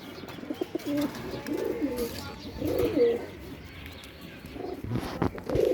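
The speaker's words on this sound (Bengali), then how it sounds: "এখন নর কবুতরটা দেখাবো" Pigeons at a high-flyer pigeon farm in Jashore give soft, throaty coos in repeated bursts, close by, with some light chirps and rustling between calls.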